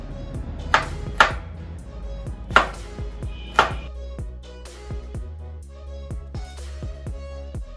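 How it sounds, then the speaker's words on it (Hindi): A knife slicing onions on a cutting board in a home kitchen, a series of close, crisp chops with sharp ringing knocks against the board, spaced irregularly at first and then faster and lighter. "तो सबसे पहले हम काट लेंगे प्याज."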